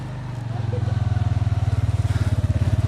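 A motorcycle engine idles and then pulls away, its close, loud, rapid putter rising slightly as it gets moving on a rough rural road.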